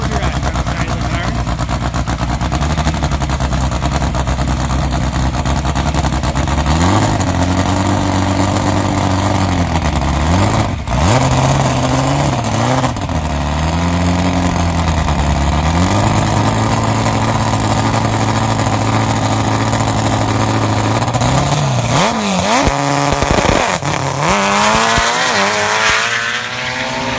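A four-cylinder drag racing car launches on a sand drag strip during Fast Fours qualifying at a season opener and bogs slightly. A loud, continuous engine drone rises and falls in pitch as it revs, heard under a commentator's voice.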